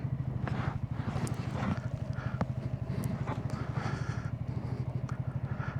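Honda ADV350 scooter-style motorcycle idling and puttering at low speed while turning around on a road, a steady rapid engine pulse up close with slight throttle changes and some background noise.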